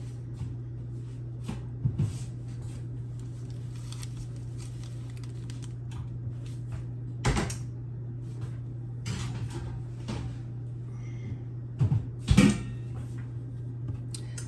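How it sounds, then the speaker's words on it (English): A veggie pizza is slid back into a home oven, with a few dull clunks of the door and rack over a steady low hum, fairly quiet with no voices. "And then I'm gonna put it back in the oven to let the cheese melt."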